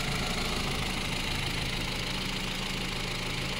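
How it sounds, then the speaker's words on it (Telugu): Ford Figo 1.2 petrol engine idling, a steady, even hum with a faint mechanical rattle that holds unchanged throughout, with no voices. "ఎంత సైలెంట్గా ఉంది ఇంజన్ బీడింగ్ అనేది"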